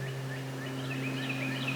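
A wild turkey gobbles in the distance on a Georgia spring morning, a quick rattling call repeated over a steady low hum.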